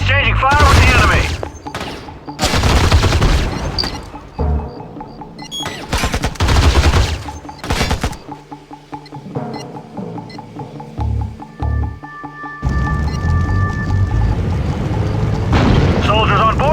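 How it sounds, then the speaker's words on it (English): Soldiers trade fire with the enemy in Act of War: Direct Action, with loud bursts of gunfire and heavy booms in close, rapid volleys, separated by short quieter gaps and a sustained whine, with radio voices talking in between. "Soldiers on board exchanging fire with the enemy."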